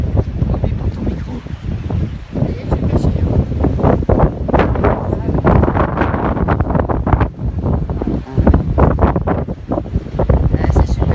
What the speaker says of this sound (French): il y a un vent pas loin du phare. J'espère qu'on va pas trop entendre dans le micro.